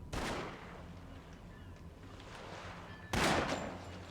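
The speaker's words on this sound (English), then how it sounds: "You point the shotgun at him and you shoot." Two booming shotgun blasts ring out in The Sopranos: Road to Respect on PlayStation 2, one at the start and one about three seconds later, each with a brief decaying tail over low background game noise.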